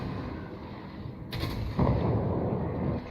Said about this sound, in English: I'm in position to do a gun run here with my AP.